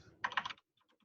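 A quick burst of keystrokes on a computer keyboard while writing FizzBuzz code, a dense cluster of clicks followed by a few fainter taps, close and alone.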